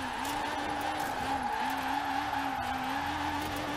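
Honda Prelude Si drifting in Forza Horizon 4, a steady engine drone with a repeated wavering tire squeal sliding through the corner, continuous and fairly close throughout.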